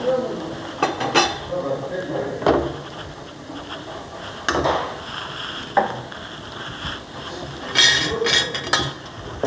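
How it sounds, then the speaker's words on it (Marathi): Egg bhurji with garlic and spices is stirred in a pan, making a string of sharp clinks and scrapes of a utensil against metal at irregular intervals, close and fairly loud, with a quiet background between strikes. "व्यवस्थित हलवून घ्यायचं."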